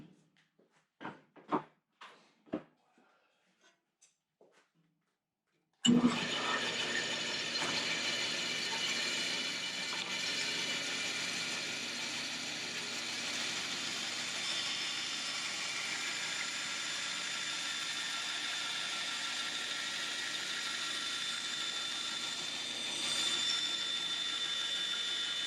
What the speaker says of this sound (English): Now the bandsaw here, I'll simply start cutting these out.